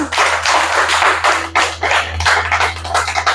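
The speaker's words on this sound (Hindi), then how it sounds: "तो इसके लिए एक ताली होनी चाहिए।" Rhythmic clapping from an audience at a direct-selling meeting, loud and close, with repeated bursts of hand claps and a low steady hum underneath.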